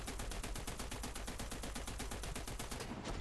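In a tank combat video game, a BMP-1 fires a loud, rapid automatic burst, with evenly spaced shots hammering continuously at close range for about three seconds before stopping abruptly.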